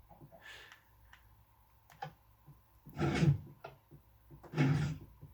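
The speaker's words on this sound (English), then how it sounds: "This over here is my first piston door ever." A Minecraft piston door operates in a quiet survival world: a few light clicks, then two louder mechanical thunks about a second and a half apart, close and alone without speech.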